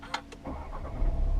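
A Skoda Superb 1.8 TSI with DSG gearbox started by push button: a couple of sharp clicks, then the engine cranks and catches into a low, steady idle rumble that grows louder and settles.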